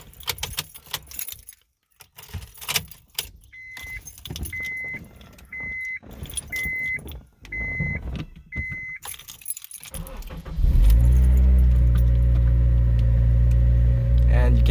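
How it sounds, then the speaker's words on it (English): An Acura RSX Type S car starts up. Keys jangle and a short chime repeats six times, then the engine cranks and catches into a loud, steady idle that fills the rest of the clip. "I'm going to turn on my car"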